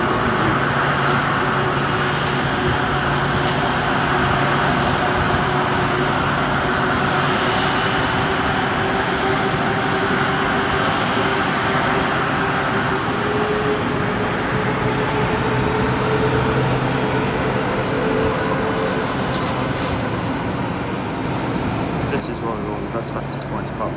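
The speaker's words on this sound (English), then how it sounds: "Good way for this Virgin to taxi out" A Virgin airliner taxis out at Manchester Airport, its jet engines giving a steady, broad roar with a low hum that holds for the whole stretch, with voices faint in the background.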